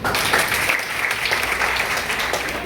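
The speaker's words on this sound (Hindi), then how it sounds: "एक बार अपने लिए जोरदार ताली" Students in a school hall give themselves a loud round of applause after a health talk, a steady wash of many clapping hands filling the room without pause.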